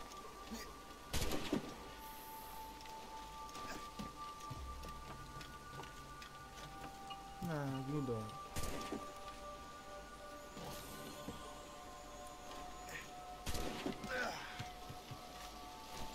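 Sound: rain in the video game Assassin's Creed

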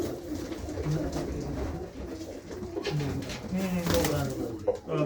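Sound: pigeons cooing, large female pigeons

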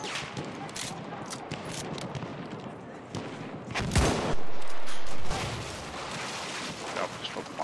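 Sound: mortar firing in Battlefield 1 video game

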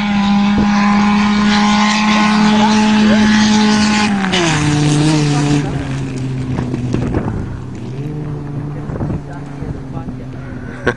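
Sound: cars (Escort, Sentra, Jimmy) racing in a field

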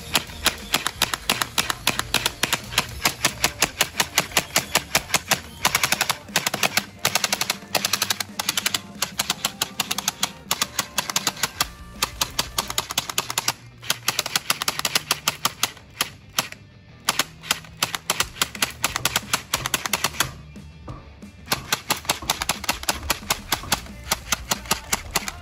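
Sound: gel blaster toy gun with two springs firing

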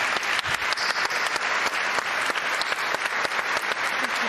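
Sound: audience applause for the Spanish team

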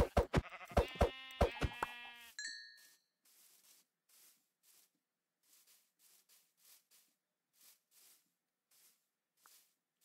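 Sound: sheep bleating, from a video game

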